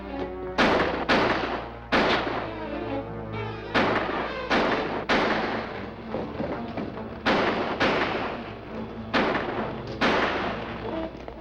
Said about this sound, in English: Don't shoot, Mike! Don't shoot!